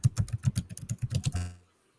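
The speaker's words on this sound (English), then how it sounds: "I can hear him typing" Rapid typing on a computer keyboard heard over a call, about a dozen close, crisp clicks in quick rhythm ending in a short held press, with no talk.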